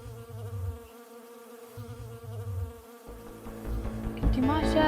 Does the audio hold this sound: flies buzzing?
yes